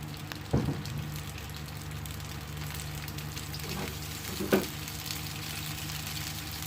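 Ingredients for a simple tomato sambal sauté in hot oil in a pan, giving a low, steady sizzle with a few soft stirring knocks. No one speaks.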